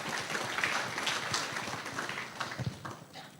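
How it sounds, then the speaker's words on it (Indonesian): An audience claps briefly at a lecture, a dense patter of applause lasting a few seconds with no voices over it. "Beri tepuk tangan dulu ini."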